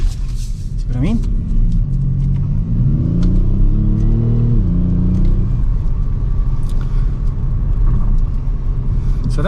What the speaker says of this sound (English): So that was just half throttle with traction control turned on and the car went sideways.